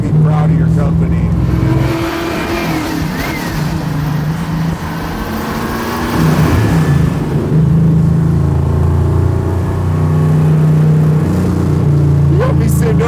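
A 1004 hp 632 ci big block Chevy crate engine in a '69 Chevelle rumbles loudly nearby, surging and revving in repeated bursts while people talk over it.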